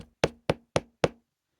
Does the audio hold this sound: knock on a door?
yes